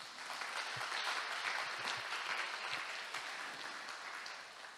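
A church congregation applauds its volunteers with a continuous, even wash of clapping that stays fairly quiet and distant, fading slightly at the end.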